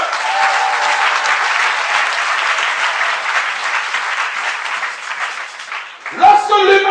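Congregation at a church vigil applauding, with dense, sustained clapping that fades out before a voice rises at the end.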